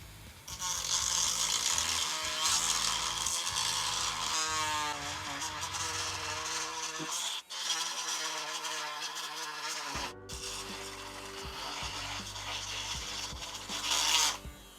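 Black & Decker 8V cordless rotary tool grinding with a small bit, a steady high whine and rasp that speeds up, drops out briefly twice, then resumes loudly and close.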